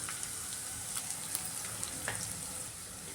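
Finely chopped onion sizzling in hot oil with curry leaves and green chillies for kande pohe, a steady low hiss with faint crackles throughout, close but quiet.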